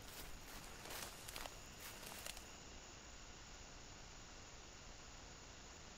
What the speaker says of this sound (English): Even my footsteps, which are very loud.